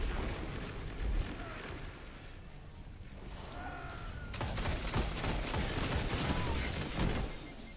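Auto rifle fire in a Destiny Crucible match, bursts of rapid shots popping over a busy game soundscape, quieter at first and then a denser run of gunfire near the end.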